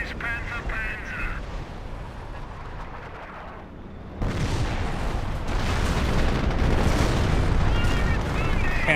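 Heavy rumbling booms and battle noise from a Panther tank firing in Company of Heroes, a dense low explosion-like roar swelling sharply midway and staying loud, with a commentator talking throughout.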